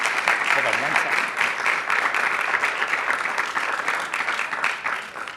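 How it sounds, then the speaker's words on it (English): An audience at a speaker series event applauds a guest speaker, steady dense clapping sustained throughout at moderate loudness. "So how about a round of applause for Dr. Jamie Marich?"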